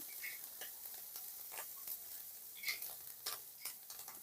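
Spice paste for potol dolma fries and is stirred in a pan, giving a faint, steady sizzle with scattered light scraping ticks from the spoon, with no voices.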